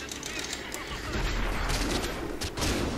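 Heavy tank cannon blasts and rumbling explosions from World of Tanks, dense and loud, with bursts of rapid fire layered over a constant low roar.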